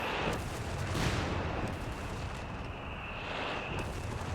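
An artillery barrage in the video game Company of Heroes 3 rumbles continuously, with dense overlapping booms and blasts, some nearer and sharper, filling the whole stretch.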